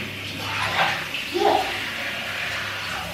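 Water pours and splashes steadily while hair is being washed with shampoo, a close, continuous rushing that swells briefly in the middle.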